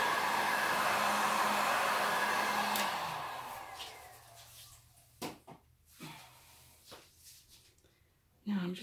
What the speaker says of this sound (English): Oh, look at those cells pop out when you put the heat gun on it.